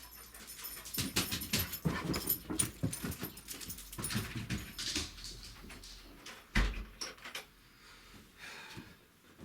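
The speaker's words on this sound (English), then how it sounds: "sorry, dog's being a pain." A dog whimpers and pants in short, restless bursts close by in an indoor room during a toy review, with a few soft knocks and rustles of handling between the sounds.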